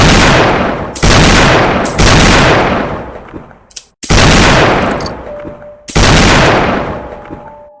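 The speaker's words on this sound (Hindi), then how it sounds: "पीछे से गोलियों की आवाज आने लगी।" Very loud, booming gunshots ring out in a horror story scene. Five heavy blasts fire at roughly one-second intervals, each one echoing and decaying before the next, with no talking.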